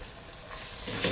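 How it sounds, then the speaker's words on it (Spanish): Ají escabeche paste fries in a pan for a lamb or goat stew, a steady close sizzle that swells slightly toward the end. "Agregamos el ají escabeche también, todo el ají en pasta, todo el ají, y que vaya sofriendo acá"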